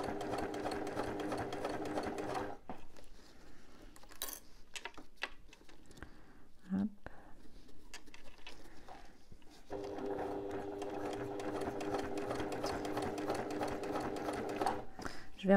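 A sewing machine stitches a backpack seam near a zipper in steady bursts of rapid mechanical whirring and clatter, stopping for a pause in the middle before running again.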